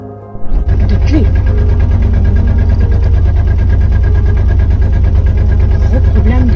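A car engine idles loud and close without a key in the ignition, a fault blamed on a solenoid, holding a steady, even drone throughout with only faint traces of a voice underneath.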